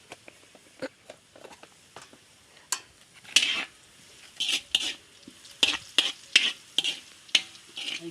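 Langka (jackfruit) chips being stirred in a frying pan, with a steady sizzle underneath and irregular scraping clacks of a utensil against the pan that grow louder and more frequent toward the end; no talking.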